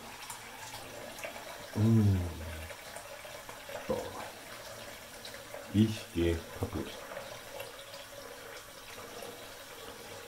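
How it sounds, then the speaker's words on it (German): Tap water runs steadily into a washbasin during a straight-razor shave, a soft continuous hiss beneath a man's intermittent speech. "Dann mache ich mal ein bisschen Wasser noch ins Waschbecken."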